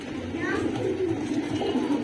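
Madrasi and other pigeon breeds coo softly and steadily, a continuous low murmur from several birds close by, with no talk over them.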